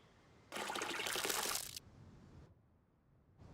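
Watering plants in the survival game SCUM: a bright splash of poured water runs for about a second, stops abruptly, and leaves quiet ambience behind.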